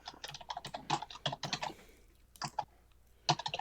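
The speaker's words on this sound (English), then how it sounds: "Whose keyboard is so loud?" Loud clattering of a computer keyboard picked up by an unmuted microphone during an online tabletop role-playing session, with rapid keystroke bursts, a short pause, then more typing close to the mic.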